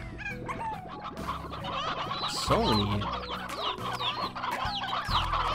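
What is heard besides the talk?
stony hen clucking in video game Slime Rancher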